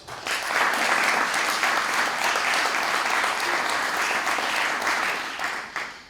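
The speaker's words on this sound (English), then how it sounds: "Let's give another round of applause." A crowd at an MLK celebration day event held by the Cape Verdean Association breaks into loud, dense applause that holds steady for about five seconds before tapering off.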